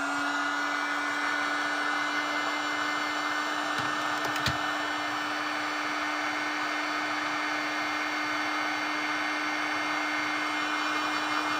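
A hair dryer blows on a watercolor painting, a steady, loud whirring hum running unbroken the whole time, with a couple of faint ticks partway through.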